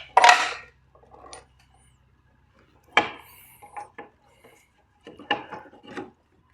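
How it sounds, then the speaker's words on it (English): A pry bar works a bolt loose on a Subaru Legacy during a teardown, heard as a few sharp metallic clanks and scrapes separated by quiet gaps, close and fairly faint. "On this end, you just take a pry bar,"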